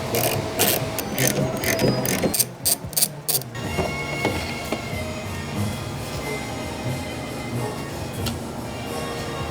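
Wrench clicking and ratcheting on the 10 mm bolts holding the top spoiler of a BMW M Coupe, bursts of quick close clicks followed by quieter handling and mechanical rattle.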